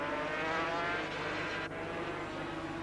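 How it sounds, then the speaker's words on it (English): Two factory Yamaha 500cc racing motorcycles battle head-to-head at the 1982 Argentine Grand Prix, engines holding a continuous high, buzzing whine at race speed, fairly distant and steady. "Two factory Yamahas head-to-head in this tremendous battle."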